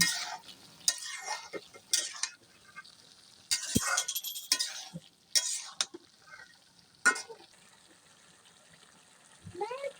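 Vegetable stalks are stirred in a cooking pan with scattered scraping, clinking and soft sizzling bursts, close and fairly quiet, the movements irregular and brief.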